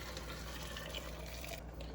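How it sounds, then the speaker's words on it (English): Stock poured into a gumbo pot holding small pieces of oxtail, a steady close pour of liquid that runs continuously for about a second and a half and then eases off. "I'm going to pour in my stock"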